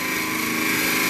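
A drill bit bores through a copper-jacketed bullet, giving a steady, close, grinding whine with a slight vibrating buzz throughout.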